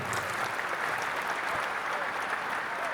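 A crowd at a mushaira poetry gathering applauding steadily, a dense wash of clapping that holds at an even level for the whole stretch.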